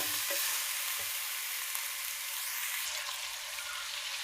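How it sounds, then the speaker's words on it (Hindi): Chicken pieces frying in a pan for Peshawari chicken biryani, giving a steady, close, broadband sizzle with a few soft stirring knocks and no talk. "अब मैं डाल रही हूँ इसमें चिकन। इसको भी फ्राई करेंगे अच्छी तरह।"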